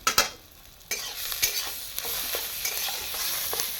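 A spatula stirs a vegetarian paste made from ground leaves in a pan, giving repeated scraping strokes over a steady soft sizzle that grows denser after a brief quiet moment near the start.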